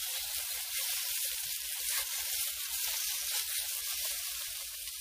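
Ginger slices and shiitake mushrooms stir-frying in hot oil in a wok over medium heat, a steady bright sizzle with rapid crackling pops continuing evenly throughout.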